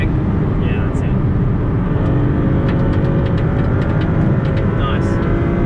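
A Maserati MC20 heard onboard while lapping the Phillip Island race track, its engine a loud continuous drone mixed with wind and road roar, with brief high clicks scattered through.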